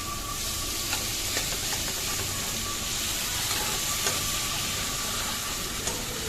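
Cleaned, cut loita fish fry in a spiced pan on low gas, giving a dense, steady sizzle with faint scraping stirs, close and continuous without talk.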